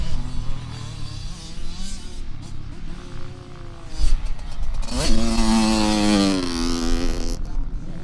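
A motorcycle engine revs hard on a hill climb at a riding track, its pitch sweeping up and down with throttle, a loud close surge around midway then holding high.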